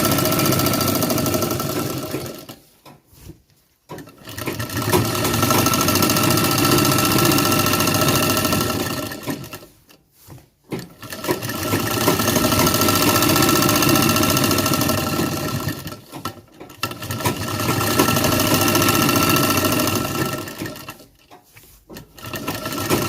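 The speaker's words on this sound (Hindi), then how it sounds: "सेंटर में इस तरह खींच के सिलाई मार देंगे" A sewing machine stitches the centre seam of a pair of trousers in a tailor's shop, running in loud, fast, steady bursts of several seconds each, broken by brief pauses as the fabric is repositioned.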